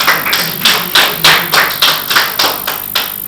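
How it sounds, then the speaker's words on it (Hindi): An audience at a Hindi kavi sammelan poetry gathering claps, heard as a string of about ten loud, evenly spaced slaps close by, each one sharp and quick to fade. "मेरे स्वागत में पहली बार जोरदार तालियां बजाइए"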